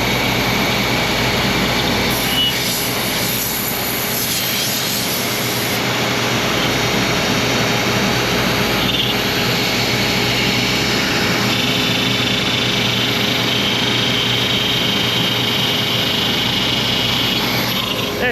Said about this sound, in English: That chattering is certainly the end mill hitting the balance of the aluminum.